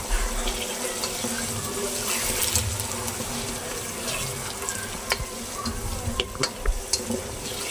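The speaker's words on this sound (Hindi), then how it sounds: "अब मैं इसके अंदर 1/2 ग्लास पानी डाल लेती हूँ" Half a glass of water is poured into a pot of mixed vegetable pulao with peas and yogurt, a close, continuous splashing pour that ends in a few scattered drips and stirs.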